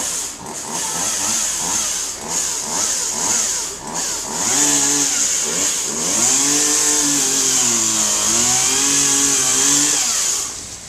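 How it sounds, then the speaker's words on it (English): A chainsaw trims a tree high up from a crane, its engine buzzing loudly and steadily, dipping and rising in pitch as it bites into the wood over about eleven seconds. "Doing a little tree trimming up there."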